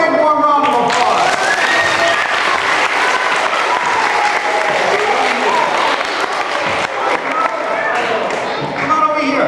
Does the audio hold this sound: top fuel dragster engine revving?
no